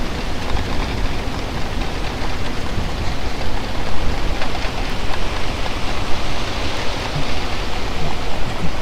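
Heavy rain squall over the Solent near Southampton: a dense, steady hiss of pouring rain, loud and unbroken throughout, with no voices.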